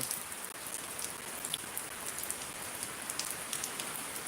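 Heavy downpour in Shariatpur, Bangladesh, a dense, steady hiss of rain drumming on surfaces with scattered sharper drop hits, close and constant throughout with no voices.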